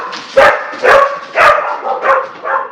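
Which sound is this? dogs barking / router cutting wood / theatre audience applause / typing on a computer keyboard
dogs barking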